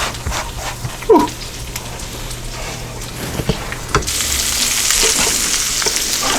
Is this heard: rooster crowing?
no